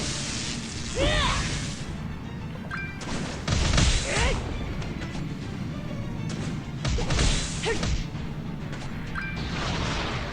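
A Merlin attack in the mobile game Seven Deadly Sins: Grand Cross: loud magical whooshes, crashes and thuds in several bursts over busy game sound.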